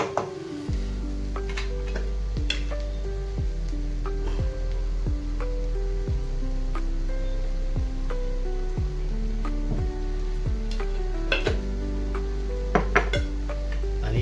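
Wild monsoon greens with salt are stir-fried in a pan, with a steady soft sizzle under repeated clinks and scrapes of a spoon against the pan at an even pace, close and without speech.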